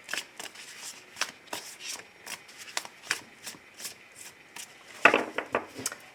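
A deck of cards is shuffled and cut for a tarot-style reading, making a run of quick, crisp riffling bursts and soft slides at close range. One brisk, louder riffle comes near the end.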